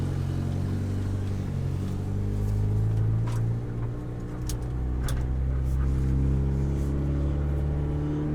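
Steady low engine rumble of a car driving along a road, constant and close, with faint brief chirps above.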